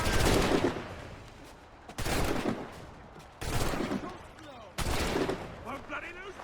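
Musket volleys fire in the Assassin's Creed III video game: four loud, sharp bursts of gunfire, each trailing off into echo, spaced a second or two apart, with voices faintly underneath.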